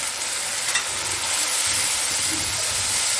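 Water hits spice paste frying in oil in a pan for Bengali rui fish curry, giving a loud, steady sizzle and hiss that lasts throughout.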